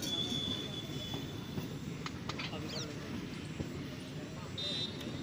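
An inaugural special passenger train rolls along curved track from inside a middle coach, with wheel squeal and steady rail rumble throughout and voices talking over it.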